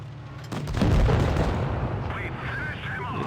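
Tank cannon fire in a World of Tanks-style game with tier 5 tanks such as a Leopard and T-25: a loud booming blast rumbles and decays for about a second, followed by sustained battle noise while a voice talks.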